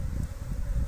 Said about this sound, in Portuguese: Essas abelhas vão me dar uma puxeta aqui.